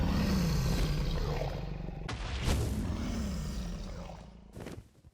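The Matter Cannon firing in ANTTS Reborn, a video game, with a heavy sustained roaring blast that fades out over several seconds, then a sharp burst near the end.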